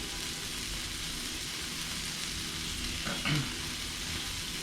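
A homemade ground beef burger patty sizzles in a pan, a steady close hiss of frying fat holding evenly throughout, with one brief soft clunk near the end.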